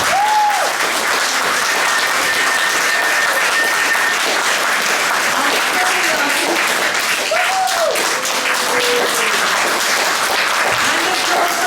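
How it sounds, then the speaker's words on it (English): Theatre audience applauding the actors at the end of a performance, a steady, loud wash of clapping throughout with a few cheers and whoops mixed in. "So can we have a big round of applause for our actors?"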